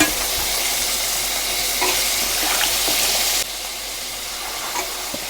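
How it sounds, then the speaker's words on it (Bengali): Washed pumpkin pieces sizzle and crackle steadily in a hot pan, the hiss dropping a little quieter partway through, with no voices. "এবার আমি এই যে ধুয়ে রাখা কুমড়োগুলো এর মধ্যে ছেঁকে দেবো"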